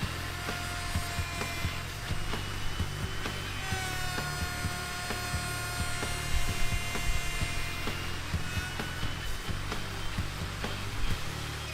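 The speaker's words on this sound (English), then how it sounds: "And just slowly route through here. This is actually a few passes." A router cuts a slot in wood in several slow passes, making a loud continuous high-pitched whine with rough chattering bursts as the bit moves through the grain.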